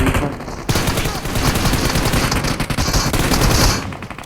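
Rapid M4 rifle bursts fire in the mobile battle royale game BGMI, loud and close, a dense stream of shots that runs almost without pause after a brief lead-in.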